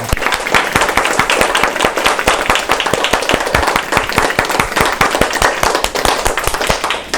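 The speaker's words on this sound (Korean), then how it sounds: "우리 하나님께 영광의 박수 돌려드리겠습니다" Loud, close applause from a congregation at a Korean Sunday church service, with sharp hand claps falling in a fast, steady rhythm that runs the whole time without a break.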